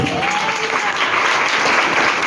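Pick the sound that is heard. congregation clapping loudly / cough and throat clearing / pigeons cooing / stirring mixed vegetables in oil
congregation clapping loudly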